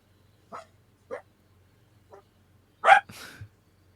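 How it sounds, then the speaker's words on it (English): Indoor dogs bark in short, sharp yips, three quick separate barks followed by a louder bark and a brief whine-like trailing sound, fairly close and in an otherwise quiet room. "my dogs are kind of wild."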